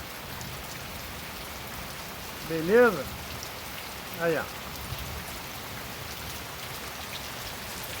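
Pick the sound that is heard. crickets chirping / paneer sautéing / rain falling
rain falling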